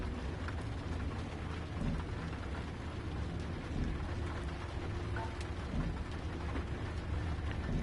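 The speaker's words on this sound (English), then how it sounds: "Now we've got the rain starting." Heavy rain drums steadily in the Train Life railway simulator game on PS5, a dense even patter with low rumbling underneath, constant and fairly quiet with no talking.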